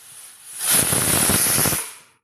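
A pressure cooker whistle blows while tapioca boils inside, a single loud, close, rushing hiss of steam that swells in and then cuts off after about a second and a half.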